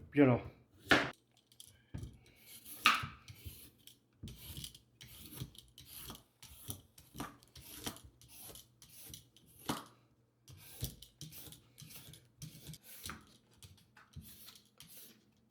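A knife slices daikon radish into small strips on a cutting board, giving a series of dry rasping cuts and taps at an uneven pace, close and fairly quiet, with a few brief spoken words between strokes.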